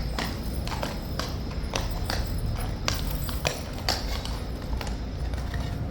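A King's Guard horse walks across a hard yard, its hooves striking in a slow, uneven clip-clop with sharp, fairly close impacts and a faint metallic clink, with no speech over it.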